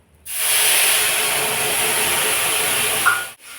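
Onion paste hits hot oil in a pan for a puna fish curry and bursts into a loud, steady, hissing sizzle that lasts about three seconds before cutting off. No one talks.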